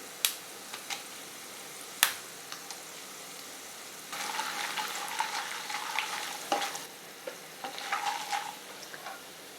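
Chana dal, urad dal and peanuts fry in hot oil with cut dry red chillies: a few sharp pops at first, then a steady crackling sizzle with spattering bursts, close and with no talk.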